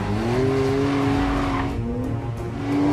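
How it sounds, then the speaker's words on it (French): Porsche 911 Carrera GTS braking hard on a race circuit, its engine drone dropping in pitch as it slows and then climbing again, loud and continuous with no voices. "Là, il y a un énorme freinage."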